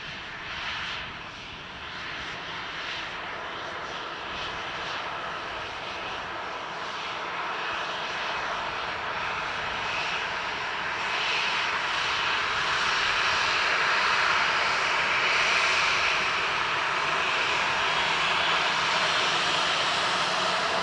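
A Ryanair airliner lands at Dublin Airport with a steady, broad jet roar that slowly swells louder as it nears, heard from a distance with no voices over it.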